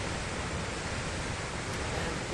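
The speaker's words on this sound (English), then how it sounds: "So that's the river that forms Hookah Falls." A river rushes through a narrow channel near Hookah Falls in New Zealand, a dense, steady roar of water close by with no pauses or voices.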